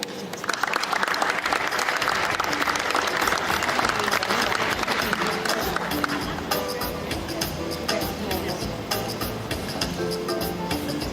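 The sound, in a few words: audience applause for panelist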